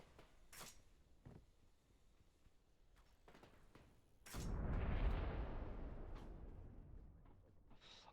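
A loud explosion in the video game Peak bursts out near the middle and rumbles on, fading slowly over several seconds, with a few faint thuds and clicks before it.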